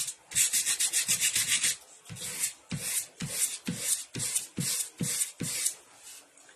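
Sandpaper rubbing over a wooden pallet by hand: a fast run of short scratchy strokes, then slower, evenly spaced separate strokes, close and clear with no talking.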